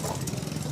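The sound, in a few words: motorcycle engine of a newspaper distributor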